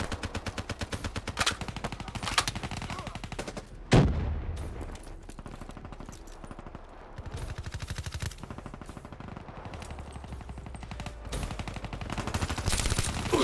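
Rapid, continuous bursts from a VMP submachine gun in a shooter game, steady rattling fire over several seconds with a loud impact around four seconds and brief pauses between strings of shots.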